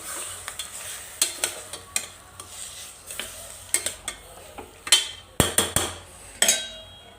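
Mutton pieces frying in oil in a clay pot, with a steady low sizzle punctuated by sharp clinks and scrapes of a utensil against the pot, fairly close and without talk.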